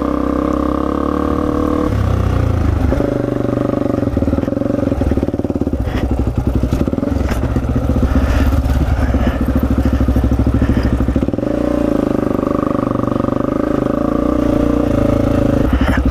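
A Honda XR250R dirt bike, a torquey 250 single, being ridden: a loud, close engine drone that shifts pitch as the rider throttles and changes gear, with a few clattering bumps along the way.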